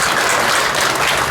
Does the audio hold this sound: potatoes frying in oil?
no